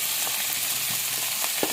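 Raw banana pieces fry in hot oil, giving a steady, dense sizzle close up, with a few soft stirring clicks and no talking.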